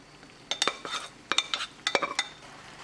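A utensil scrapes and clinks in a pan as drained pasta is tossed with lamb meatballs over low heat, in several quick bursts of metallic stirring close by.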